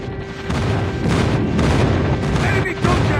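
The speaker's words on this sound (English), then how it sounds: "Friendly airstrike incoming." Booming airstrike explosions and gunfire in the Call of Duty Mobile video game, a dense, continuous barrage of heavy blasts and rumbling impacts filling the mix.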